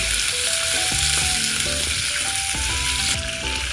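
Green chillies frying in hot oil with garlic in a pan, a loud, constant close sizzle that fills the whole stretch, with music playing beneath it.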